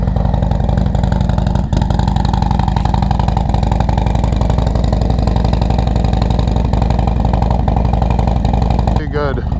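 A Harley-Davidson Softail Street Bob with a 114 engine and stage 2 upgrade runs close by, a loud, steady rumbling idle with a rapid lumpy pulse throughout, and a brief voice near the end.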